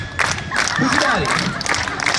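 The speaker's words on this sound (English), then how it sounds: "When it goes under my leg, everybody scream and cheer." A lively street-performance crowd in London screams and cheers loudly, with scattered clapping and voices shouting over the din.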